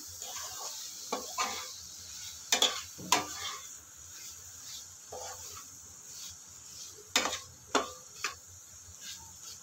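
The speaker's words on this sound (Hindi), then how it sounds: "इसमें भी हम बीन्स ऐड कर देंगे इसको भी मसाले के साथ अच्छे से हम मिक्स कर देते हैं" Beans being stirred into cooked masala in a pan, with scattered spoon scrapes and knocks against the pan over a low sizzle, close and unaccompanied by talk.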